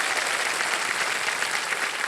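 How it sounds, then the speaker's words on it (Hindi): Studio audience on the KBC quiz show clapping, a dense burst of applause that holds steady and fairly close for about two seconds. "इनके लिए भी तालियां बजाएं"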